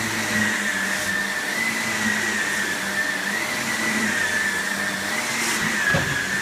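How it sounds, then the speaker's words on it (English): A small Star Wars toy-style vacuum cleaner runs steadily with a constant high motor whine and whooshing airflow, close and loud throughout, with no talk. "Star Wars vacuum."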